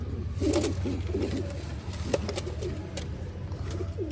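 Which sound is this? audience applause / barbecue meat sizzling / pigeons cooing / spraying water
pigeons cooing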